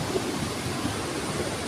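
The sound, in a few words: large ocean waves at the beach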